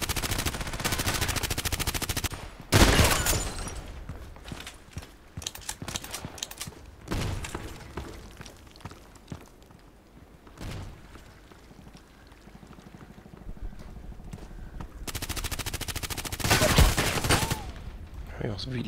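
MP133 shotgun fire in the game Contract Wars: several sharp, loud blasts in separate bursts, with quieter clicks and handling noises between them and no talk.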